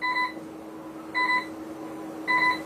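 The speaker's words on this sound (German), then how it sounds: "Alarms will start going off on the bridge. Start getting alarms." Cargo ship bridge alarm during a simulated blackout: three short electronic beep bursts repeat about every 1.1 seconds over a steady low hum, with no one speaking.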